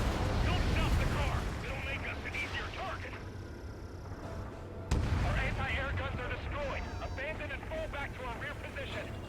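Anti-aircraft guns fire steadily in an Ace Combat 7 air battle: a dense, continuous rumble and crackle mixed with engine roar, with voices talking over the radio throughout.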